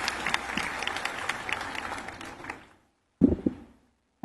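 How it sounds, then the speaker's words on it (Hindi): Applause welcoming a professor and former student at a women's college function attended by the Vice President, moderately loud for about two and a half seconds, fading into silence, then a brief burst of clapping near the end. "एक बार जोरदार तालियों से हम स्वागत करते हैं"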